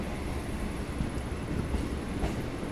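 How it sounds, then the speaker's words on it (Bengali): Kolkata local train running near the Second Vidyasagar Setu over the Ganga by Prinsep Ghat, a steady broadband rumble of rolling stock with faint rail clatter throughout, moderately distant and without talk. "আর এই হচ্ছে আমার ট্রেন যাচ্ছে"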